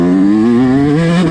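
A dirt bike engine with a freshly rebuilt top end revs hard and close, a loud continuous buzzing drone that rises and wavers in pitch.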